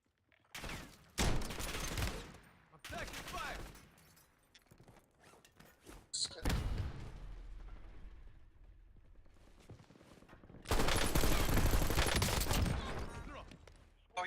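Call of Duty Warzone gunfire crackles in loud bursts of rapid shots, with a sustained heavy volley near the end, broken by quieter stretches where a voice talks.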